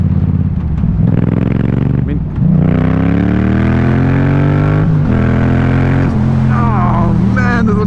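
A 2017 Yamaha MT-07 motorcycle with a full Scorpion exhaust revs loudly and close by, pitch climbing through repeated throttle blips and gear changes as it pulls away.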